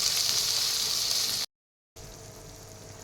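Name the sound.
sliced onions sizzling while frying in hot oil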